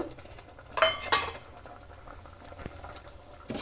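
Urad dal and chana dal stir-fry in a pan for a chutney, with scattered spoon scrapes and clinks against the pan over a faint sizzle, a few sharper rattles standing out.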